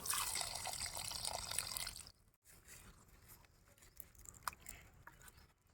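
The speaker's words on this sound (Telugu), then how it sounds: "కొంచెం నీళ్ళు పోసుకుందామా గ్రేవీ బాగుండాలి కదా ఇక నీళ్ళు అయితే పోసుకుందాం" Water pours into a pot of cooking mutton curry with a rushing hiss for about two seconds, then fades to soft bubbling and occasional drips.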